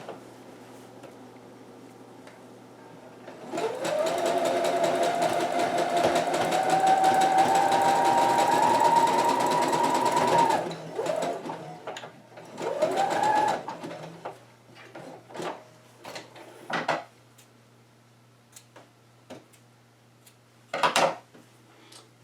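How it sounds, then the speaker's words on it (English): A sewing machine runs a steady zigzag stitch over a fabric edge for several seconds, a loud close whir, then short stop-start bursts and clicks as the work is adjusted. "you're just going to zigzag stitch right over that edge"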